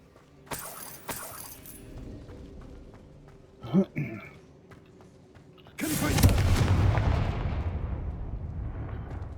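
An explosive Confringo spell cast in Hogwarts Legacy bursts loudly midway, a broad blast with a rumbling tail that fades slowly, following fainter game impacts and effects.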